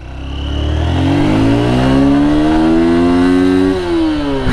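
A Honda CB Hornet 160R motorcycle engine revs up close, pitch climbing steadily through a sustained acceleration before easing slightly near the end, loud and continuous with no talk.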